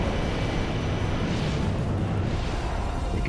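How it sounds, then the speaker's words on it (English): A big explosion in the Allods Online video game, a loud, sustained rumbling roar that fills the whole moment without letup. "big explosion,"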